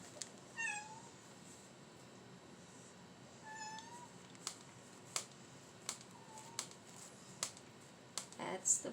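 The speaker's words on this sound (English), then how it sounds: "That's one of the baby kittens." A baby kitten gives three faint, rising meows a few seconds apart, with soft clicks and light tapping from indoor craft work in between.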